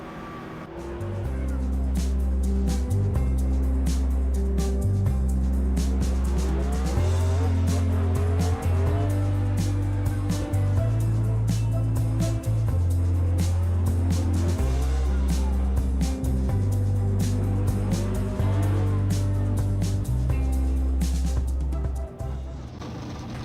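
Stock cars in the NASCAR Racing 2003 video game, 2018 Cup season mod at Richmond, roar continuously with layered engine drones that rise and fall through gear changes, while tires squeal in repeated skids and power slides on worn tires.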